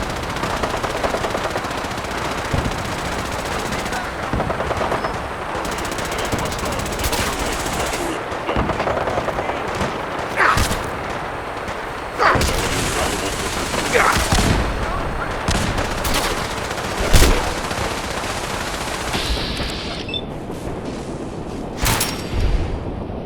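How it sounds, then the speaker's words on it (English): Rapid gunfire from a vermin rifle in the video game Fallout 4, dense bursts of sharp shots cracking over a constant noisy battle din, with scattered louder impacts throughout. "A vermin rifle."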